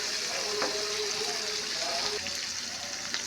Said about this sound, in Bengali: পেঁয়াজগুলো একটু বাজা বাজা হয়ে গেছে